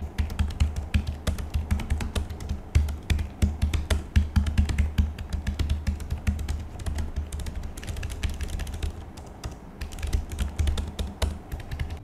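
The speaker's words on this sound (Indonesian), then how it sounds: "ini terasa sangat clicky untuk level keyboard laptop" Fast, steady typing on an ROG gaming laptop's clicky optical-mechanical keyboard, a dense close-up patter of crisp key taps running throughout with no voices.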